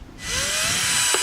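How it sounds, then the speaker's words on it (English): A power drill bores bolt holes in the body of a toy police car to mount a light, whining steadily and close up for about a second after a short quiet start, its pitch rising slightly. "center the light to drill the bolt holes"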